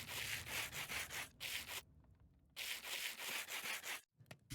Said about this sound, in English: you use the sandpaper to turn the rose quartz into polished rose quartz